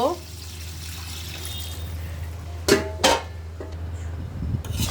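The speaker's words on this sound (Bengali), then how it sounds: "আমি এখন একটু গরম পানি দিয়ে দিব।" Hot water is poured into a cooking pot of braised jackfruit and beef in two short splashing bursts, with a final splash at the end, over a steady low kitchen hum.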